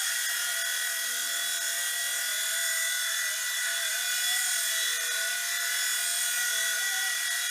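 Small RC four-channel helicopter hovering and pirouetting in place, its rotor and motor giving a steady high-pitched whine that warbles slightly as it spins, loud and continuous throughout.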